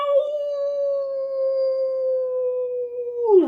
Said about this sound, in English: "Ow!" howls the dog skeleton.